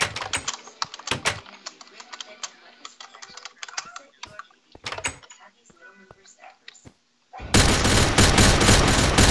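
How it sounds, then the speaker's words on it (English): Gunfire in the video game The Crafting Dead, heard as scattered sharp shots and clicking bursts under people talking, ending in a sustained loud burst of noise. "He's just wasting his ammo on you. They're just shooting at you."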